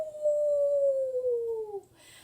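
A wolf's long, tremendous howl in a children's story, one sustained, slowly falling tone that fades out. Likely voiced by a person imitating the wolf.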